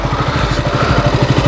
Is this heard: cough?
no